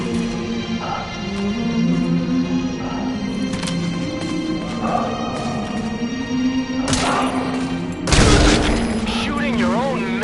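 Gunfire rings out in the video game Metal Gear Solid 5, with sharp shots and booming bursts mixed among voices and a tonal musical backdrop, the loudest blast near the end.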